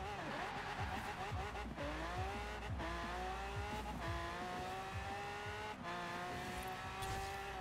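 A tuned top-tier drag racing car in Forza Horizon 4 revs hard and climbs through its gears, with pitch rising and dropping at each shift over a continuous roaring engine drone.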